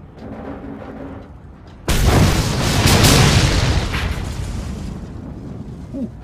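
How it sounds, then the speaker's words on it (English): In the video game Mad Max, a sudden, massive blast erupts after a quiet stretch, followed by a long rumbling roar of debris that slowly fades, with game-like background sound before it. "Ooh, that was a big explosion"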